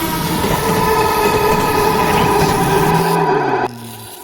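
A train rolls along the track with a loud, continuous rumble that cuts off abruptly near the end, leaving quieter tones.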